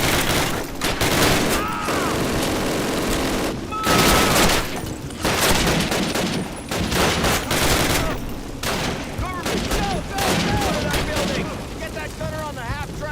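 Call of Duty gunfire: dense bursts of rifle and machine-gun shots crackle almost without pause, with a few louder booming volleys, while shouted voices break in over the battle.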